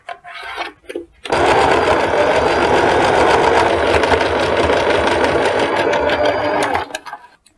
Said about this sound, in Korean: 반대쪽 주머니도 역시 또다시 똑같은 방법으로 접어서 집어넣고 박아줍니다.